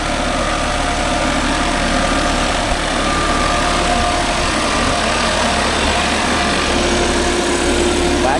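A Deutz-Fahr 80 hp 4WD tractor pulls a 5-point cultivator through farmland, a loud, steady, continuous engine drone with no breaks and no talking.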